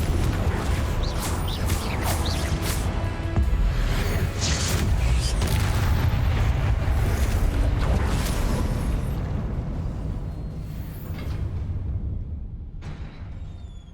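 Fire and explosion spells cast in the Hogwarts Legacy video game, a dense stretch of roaring, crackling blasts and booms that stays loud for most of the clip, then thins out near the end.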